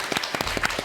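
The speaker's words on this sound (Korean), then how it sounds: "박수." Brief, close applause from an audience at a Buddhist chanting contest at Woljeongsa temple, several quick overlapping claps in under a second.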